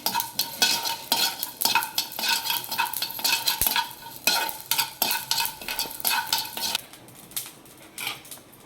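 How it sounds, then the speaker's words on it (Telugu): Half a spoon of cumin seeds crackling in a hot pan as they fry, with steady sizzling and repeated clinks and scrapes of a spoon stirring against the metal, loud and close throughout. "జీలకర్ర సగం చెంచా. ఇవి వేయించుకోవాలి."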